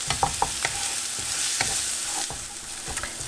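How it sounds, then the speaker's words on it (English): Oil sizzles steadily in a pan as ginger garlic chili paste fries, while a utensil stirs and scrapes, with a few sharp clinks against the metal. No one speaks. "we're going to fry this up for a few minutes just to make sure that it's cooked through"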